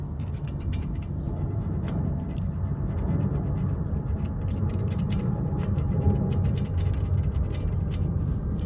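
Steady close-up rasping and rubbing as debris is scraped off brake parts on a 1998–2002 Toyota Corolla during a brake pad change, a continuous scratchy texture with no pauses.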